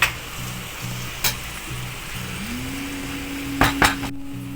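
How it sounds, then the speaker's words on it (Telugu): Chopped onions frying for an egg mango curry are stirred in a pan, with a steady sizzle and a few sharp clinks of the spoon against the metal. "ఒక్కసారి కలుపుకుంటున్నాను అన్నమాట నేను"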